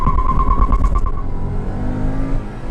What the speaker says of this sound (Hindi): now we are in sports mode, we have a big tachometer, raving the engine